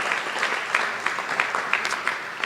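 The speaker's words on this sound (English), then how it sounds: "Please give a round of applause to Council President Shannon Hardin." Audience applause at a Columbus announcement of free community college for city school graduates, a moderate crowd clapping steadily with individual sharp claps popping out of the wash.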